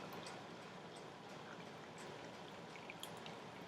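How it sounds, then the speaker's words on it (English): Green tea poured in a steady, soft continuous trickle of liquid, close and quiet, with faint splashy detail and no talking. "Go ahead and pour your tea."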